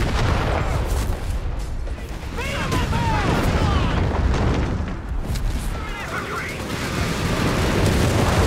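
Artillery fire support in a Company of Heroes 3 battle for a city: dense, continuous booming explosions and rumbling blasts fill the scene, with voices partly heard over the din.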